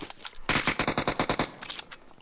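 Rapid gunfire in the PUBG Mobile battle royale game, a loud close burst of quick automatic shots in steady rhythm, preceded and followed by scattered single shots.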